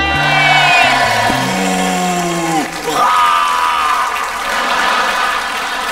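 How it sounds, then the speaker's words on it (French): A TV game show studio audience cheers and claps loudly, with shouts and music-like tones over the start, the applause swelling and holding steady. "On applaudit bien fort Marc-André."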